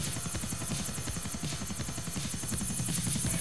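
A helicopter flies in the GTA: The Ballad of Gay Tony video game, its rotor thumping in a fast, steady chop under a bright buzzing whine, loud and continuous throughout.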